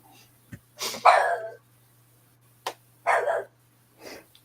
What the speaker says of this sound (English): So this is the Thomas pupper